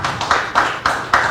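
Audience at a talk clapping in a few distinct, evenly spaced bursts, close and fairly loud, with short gaps between each clap over a brief moment.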